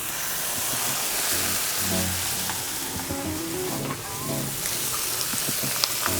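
Mortadella bologna slices sizzling steadily on a hot grill for a sandwich, a continuous crackling fry with soft hissing and occasional pops, close and fairly loud with no talking.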